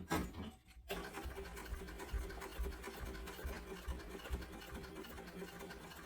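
A sewing machine basting the edge of a sling bag with D-ring connectors runs in a steady, close mechanical whir, starting after a short pause.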